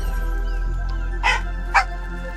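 A dog in the video game The Talos Principle 2 gives two short, sharp barks about half a second apart, clear and close over a steady droning game-music background.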